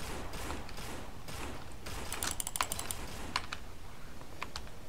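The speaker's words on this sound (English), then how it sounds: "Just type it in and then push enter." A code is entered on a keypad in the game No More Room In Hell: a quick run of sharp clicky key taps, clustered in a rapid burst near the middle with a few scattered presses after, over a steady background hum.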